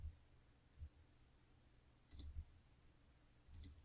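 Soft mouse clicks on a computer while working in Word, a few faint, isolated close taps spaced through otherwise quiet room tone.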